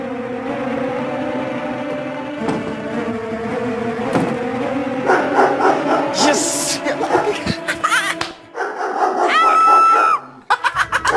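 A dog barks and yips in a room during a TV drama scene, the barks mixed with voices, laughter and background music, rising to loud high yelps near the end.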